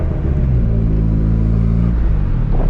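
A turbocharged Honda Civic with a built single-cam engine and a new fuel system idles loud and close, a steady deep rumble with a slight uneven lilt and no talking.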